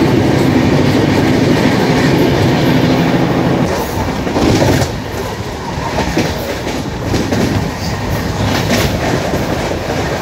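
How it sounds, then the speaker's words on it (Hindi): A passenger train hauled by dual EMD diesel locomotives rumbles along at 130 km/h with a loud, continuous roar and rhythmic clatter of wheels on track, the tone shifting partway through. "गाड़ी ने अपना ड्यूल EMD लोकोमोटिव शो दिखाना शुरू कर दिया है"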